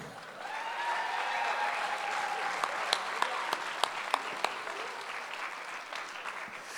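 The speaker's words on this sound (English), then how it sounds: "Ladies and gentlemen, please give him another big round of applause." A talent show audience applauds steadily and moderately loud with scattered whistles and cheers, while a few sharp, distinct claps punctuate the middle of the ovation.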